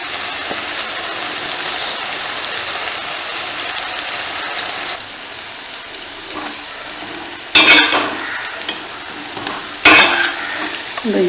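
Muthias frying in oil in a Dutch oven, a steady loud sizzle with occasional stirring and scraping, plus two sharp bursts of louder crackling near the end.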